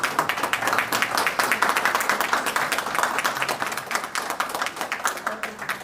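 Audience applause at a book presentation on Cuban totalitarianism, a roomful of hands clapping in quick, distinct, uneven claps, moderately close and steady throughout, with no voices over it.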